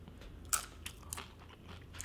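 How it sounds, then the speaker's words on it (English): Close-up crunching bites into crispy homemade sweet potato chips cooked in a microwave, a sharp loud snap followed by several smaller crackly crunches against a quiet background, with no talking. "of crispy sweet potato chips that I made in the microwave"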